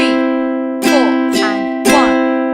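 A ukulele strums bright chords in an uneven pattern, three sharp accented strums landing at shifting intervals over ringing sustained strings.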